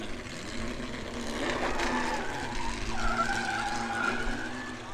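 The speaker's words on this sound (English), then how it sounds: "We've got a Mazda, I think it's a R100 or a RX2." Old-school Mazda RX2 (or R100) drifting at a charity track day at Ludenham Raceway, its tires squealing in steady rising and falling screeches over a continuous engine drone, fairly close and loud.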